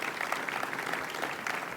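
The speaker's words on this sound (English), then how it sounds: "Please give a warm round of applause to all of our city employees" Warm applause from an audience honoring city employees at a public event about a historic plunge, a steady wash of many hands clapping with no voices over it.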